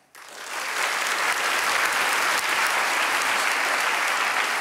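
Studio audience applause bursting in on cue at the start of a Czech TV talk show taping, loud, dense and sustained without break for several seconds.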